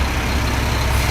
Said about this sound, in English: Gotta get a garbage truck through.